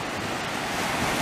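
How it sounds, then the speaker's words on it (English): Gentle surf washes steadily onto a shallow beach with calm water, a soft continuous hiss of small waves with some wind noise across the microphone and no voices. "Not that many waves, because the water is actually very shallow"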